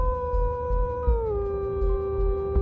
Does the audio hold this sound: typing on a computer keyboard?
no